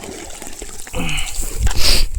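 Water drains out of a flooded rice paddy field, a steady close gurgle and trickle that swells into louder splashing rushes near the end.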